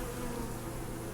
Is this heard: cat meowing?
no